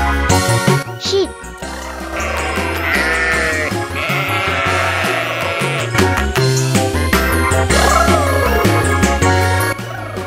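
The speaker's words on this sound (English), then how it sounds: "Sheep." Wavering sheep bleats sound out over a cheerful music track, several drawn-out calls in a row.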